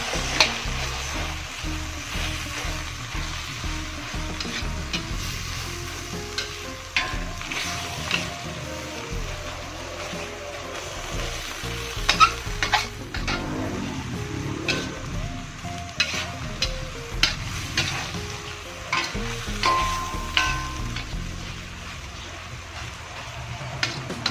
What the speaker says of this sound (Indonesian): Kemudian kita aduk kembali.